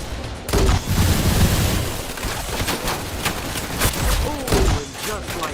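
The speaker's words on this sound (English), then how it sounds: "I forgot that is not like a regular rocket launcher" Heavy weapon fire in the Roblox video game, a rocket launcher among loud booming blasts and rattling shots that continue in a dense chaotic barrage.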